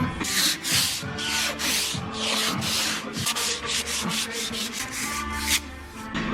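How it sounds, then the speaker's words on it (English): Sandpaper scrapes old chalk and honey off the wooden rails of gymnastics parallel bars in continuous, loud, rhythmic back-and-forth strokes, close up with no talking. "Gonna use some sandpaper for that. Gonna like scrape all the old chalk and honey off."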